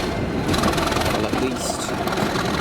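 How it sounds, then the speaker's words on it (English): A Class 37 diesel locomotive engine runs steadily on a heritage railway, a continuous loud rumbling drone heard close by, with a brief bright rise partway through and voices underneath. "at least the Class 37 has a more interesting engine sound than the 47."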